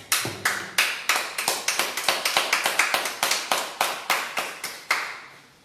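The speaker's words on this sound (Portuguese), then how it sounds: "Mais uma vez, uma nação de palmas para nosso Deus." A church congregation claps during a live service, with sharp claps in a steady, even rhythm that carry on for several seconds before fading out.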